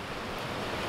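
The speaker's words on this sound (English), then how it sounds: "there's the waterfall there, and then there's also this little pool of foam" Waterfall in Padley Gorge in the Peak District, spilling into a small foamy pool, gives a steady, dense rush of falling water that holds even and unbroken throughout, with no voices.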